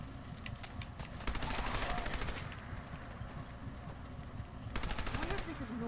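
Rapid automatic gunfire rattles in bursts during Fallout 4 combat, a long volley early on and another near the end, over a dense background of game noise and chatter.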